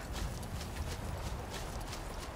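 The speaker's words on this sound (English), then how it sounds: "Is that bastard going after my horse?" A horse's hooves clip-clop steadily in the video game Skyrim, a fast, even run of soft thuds under a constant noisy wash, faint and somewhat distant.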